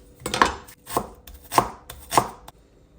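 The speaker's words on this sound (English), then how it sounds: "So just a red small onion, finely chopped." A small red onion is finely chopped with a knife: four sharp, evenly spaced chops, close and crisp, with no voices.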